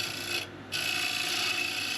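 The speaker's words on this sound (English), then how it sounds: "I'm starting with the bowl gouge and just giving it a rough shape." A bowl gouge roughing very hard sheoak on a wood lathe gives a steady, close rasping scrape, broken by one short pause, with no talk.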